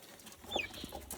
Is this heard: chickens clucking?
yes